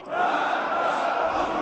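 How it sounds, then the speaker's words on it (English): Iran's parliament, all 290 members, chanting together in unison, a dense, steady roar of massed voices filling the chamber without pause. "As all 290 members of Iran's parliament chanted, quote, "Death to America.""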